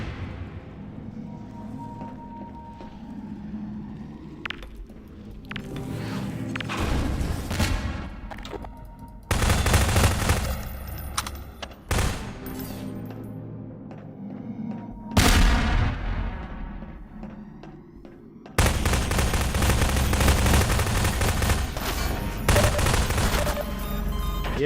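Automated turrets in a Half-Life map fire in loud, dense bursts of rapid gunfire, alternating with quieter stretches of softer shots and booms, the heavy volleys returning repeatedly across the scene.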